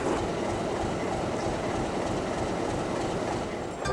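A passenger train ambles along a disused stretch of the old north-south main line between Coquimbo and Las Cardas in Chile, a loud continuous rolling roar with rhythmic wheel clatter on the rails.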